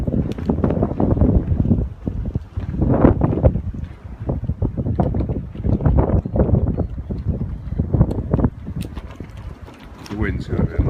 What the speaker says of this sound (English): The wind's going to be a lot around this